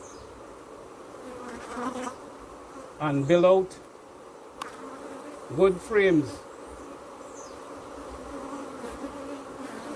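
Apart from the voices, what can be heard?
honeybees buzzing at brood frames in a hive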